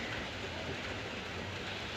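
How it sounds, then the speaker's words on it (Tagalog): Steady, unbroken rain on a cold morning, a dense even hiss of moderate rainfall that holds at the same level for the whole stretch. "Umuulan. Walang tigil na ulan"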